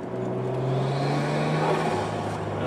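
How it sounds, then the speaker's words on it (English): A Nissan Skyline ECR33 engine accelerates on a test run, a steady loud drone with rising engine tones that carries on through the whole stretch with no talk. "The car pulls pretty good."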